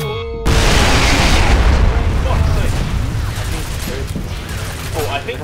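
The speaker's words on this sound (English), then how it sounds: "It's gonna blow!" A loud explosion in the shooter F.E.A.R. erupts suddenly after a brief moment, then rolls into a long rumbling decay with scattered debris and gunfire-like crackles trailing off.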